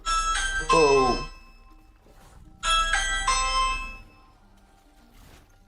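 A mobile phone rings in the background during a livestream, its tonal ring sounding in two bursts with a pause between them, and a voice briefly speaks over it.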